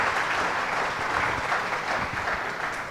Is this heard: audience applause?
yes